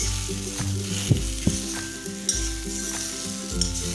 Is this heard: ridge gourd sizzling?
yes